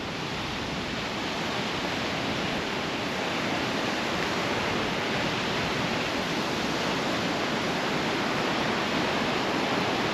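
Rough, choppy sea water off the Jamaican coast during a fishing outing, a steady broadband wash of surf and churning waves filling the scene without pause, loud and close, with no voices.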